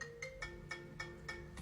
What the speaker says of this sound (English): Because I'm ringing it right now.